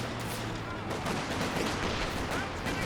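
Dense gunfire volley in Company of Heroes 2, Panzer Fusiliers firing into a slit trench, a continuous loud wash of overlapping shots and battle noise for the whole stretch.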